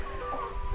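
A hen in a backyard coop of one rooster and four hens gives a short, close cluck, with no one talking.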